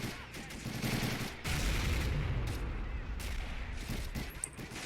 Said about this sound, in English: should be an additional like 10 to 20 men with big machine guns, as it seems